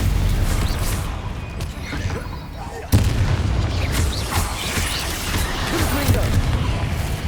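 A Stupefy spell blast in Hogwarts Legacy amid combat, a sharp booming impact hitting suddenly and loudly, surrounded by ongoing rumbling battle effects and a voice calling out.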